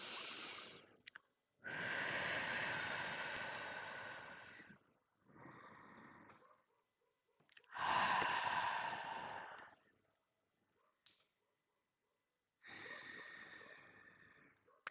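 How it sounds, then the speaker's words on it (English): Three deep, slow breaths at the close of a meditation, each a long, breathy inhale and exhale heard close and fairly soft, separated by short pauses of near silence, with no talk. "And we'll just take 3 breaths to close this circle."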